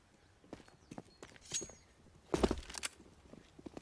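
Footsteps in Counter-Strike on the A site, appearing as scattered soft steps that build to a louder burst of movement midway through, set against faint game ambience with no talking.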